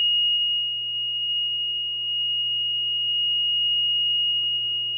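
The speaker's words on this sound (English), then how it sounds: "we're going to activate the alarm. There's the alarm. It's showing high water" SJE Rhombus high water alarm on a dual sump pump system sounding a steady, loud electronic buzzer tone, continuous and unbroken throughout, with a faint low hum beneath it.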